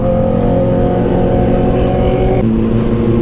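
A group of superbikes, a Ducati 848, a Yamaha R1 and Honda Blades, roar along together with a loud, steady engine drone and a gear change partway through.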